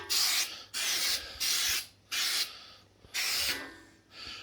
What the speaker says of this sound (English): Just coat it like you're painting.